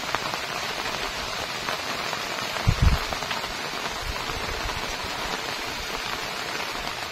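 Light monsoon drizzle patters steadily on surfaces in the Sundarbans countryside, a soft continuous hiss with a brief low thump partway through, no voices.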